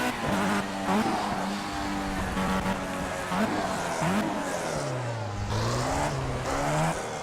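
A Formula 1 car in the racing game Project CARS revs loud and close, its high engine note rising and dropping through gear changes and corners, with brief tire squeal along the way.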